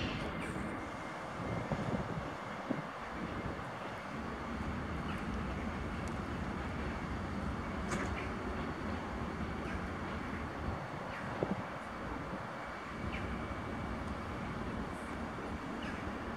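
An SM42 diesel locomotive rolls through Rzeszów Główny station, a steady low rumble and rail noise holding for the whole stretch, with wind buffeting the microphone and occasional sharper clanks.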